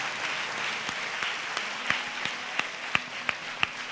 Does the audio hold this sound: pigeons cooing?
no